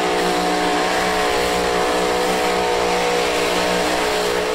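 Super modified pulling tractors powered by Hemi engines roar at a 2008 tractor pull in Wheatland, Missouri, a loud, sustained, multi-engine drone that fills the clip with no pauses.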